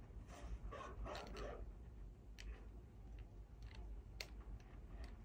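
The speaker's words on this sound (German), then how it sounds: "Oh, ein Hund kommt." Dog barking in the video game Inside, played on Apple TV: a few quick, faint yapping barks early on, then scattered sharp ticks over a low steady rumble, no talking.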